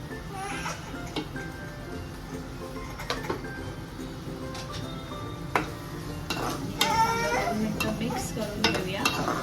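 Masala for vegetable biryani stirred in a pot, a steady close scrape and sizzle with light utensil clicks and taps against the metal, soft talk faintly underneath.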